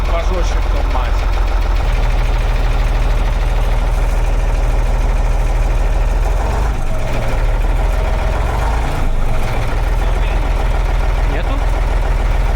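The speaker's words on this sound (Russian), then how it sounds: "Здесь мягче мотор работает." A MAZ truck's diesel engine runs steadily at close range with a deep low rumble, fitted with a racing axle and sport exhaust, while people talk inside over the engine noise.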